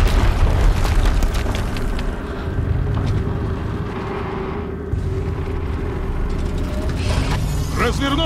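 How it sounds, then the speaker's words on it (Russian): Loud, continuous rumbling blast from an explosion in the video game Horizon Zero Dawn, with heavy low-end roar and crackling debris, sustained over several seconds without a break. "Еще один взрыв."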